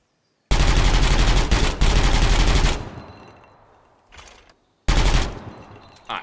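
Test-fired gun in the Gunsmith Simulator video game lets off two loud bursts of rapid automatic fire. A long sustained volley gives way to a fading tail, then a second burst cuts in, all close and with no voices.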